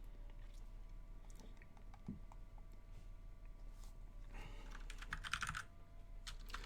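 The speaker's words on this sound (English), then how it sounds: "I'm using the wrong keyboard" Rapid typing on a computer keyboard, with soft clicks running steadily through the whole stretch and swelling into a denser, louder flurry of keystrokes near the end.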